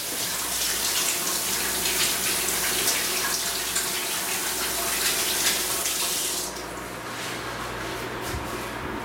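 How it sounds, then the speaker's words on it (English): Tap water runs steadily as hands are washed at a kitchen sink after handling cookie dough, a loud continuous splashing hiss that drops to a softer flow for the last few seconds. "I'm gonna wash my hand again, but you don't need to see that part"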